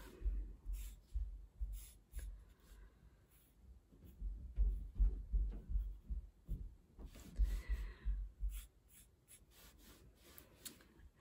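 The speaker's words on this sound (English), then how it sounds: "So I'm going to draw a book." Pen or pencil drawing a book picture on paper: soft, close scratching and rubbing strokes in irregular bursts, faint and quiet with no talking.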